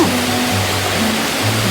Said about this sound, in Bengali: দেখো ফ্রেন্ড, কত সুন্দর বৃষ্টি নেমেছে